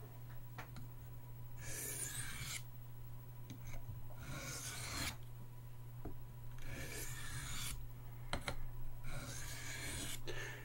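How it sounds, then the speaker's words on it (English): A Buck 110 knife edge being honed on a soft Arkansas stone, steady rasping strokes repeating in a slow rhythm of about five passes, close and moderately loud over a constant low electrical hum, with no talking. "I'm not really sharpening this blade. I'm basically just refining this edge."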